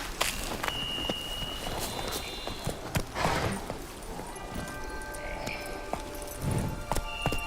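Hooves of a horse ridden through The Witcher 3: Wild Hunt, a steady clip-clop of footfalls over game ambience with bright tonal chimes, no talking.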